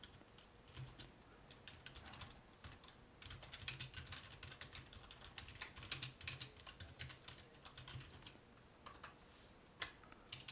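A question being typed quickly on a computer keyboard, soft, close clicks in uneven bursts with brief pauses, quiet overall and no speech.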